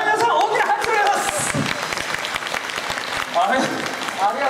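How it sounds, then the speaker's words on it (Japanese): An audience claps loudly at a live stage show, bursts of hand claps that come and go, with voices talking over them at times. "皆さん大きな拍手をお願い"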